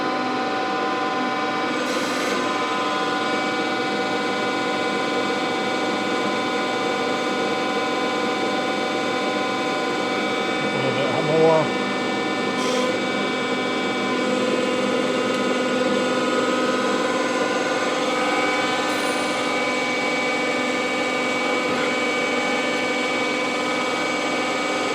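Monarch 10EE lathe running steadily with a grinding wheel feeding across the saddle work, a constant machine hum and whine with faint light scraping, even in level throughout.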